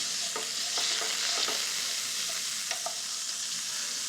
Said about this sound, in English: I'm going to take a couple of anchovy fillets and add those as well, and just kind of mash them against the hot pan so they begin to break down.